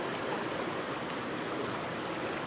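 Broad, steady rushing of a swollen river in flood, the current running continuously and close, with no voices over it.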